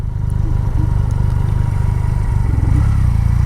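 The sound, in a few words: Triumph Rocket 3 motorcycle engine revving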